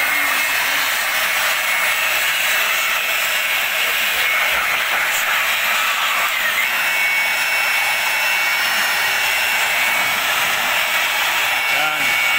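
A loud, continuous high-pitched rush of compressed air from a blower cleaning a Toyota Wigo's rear brake, with faint voices underneath.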